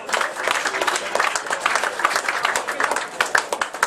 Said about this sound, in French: Je vous demanderai d'applaudir le nouveau leader, Christian Jorgensen.